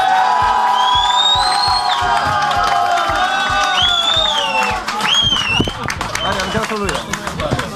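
A crowd at a slalom competition in Wisła claps and cheers for the third-place senior at an award ceremony, with loud, busy applause, whoops and voices, and high whistle-like tones sliding over the noise.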